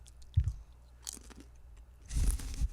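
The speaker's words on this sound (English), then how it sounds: "me get that one more crunch." Crunchy food is chewed close up, with a sharp crunch early on and then a denser burst of chewing near the end, quiet in between and no talk.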